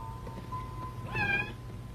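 A cat lets out a single short meow, clear and close, over a steady low hum in a quiet room.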